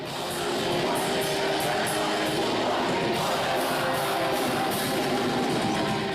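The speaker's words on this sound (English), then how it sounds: "when thousands of Brazilians sing along to Portuguese language, it sounds like this." A huge crowd of Brazilians sings together in Portuguese loudly and continuously, voices merging into a dense, roaring chorus that fills a large space.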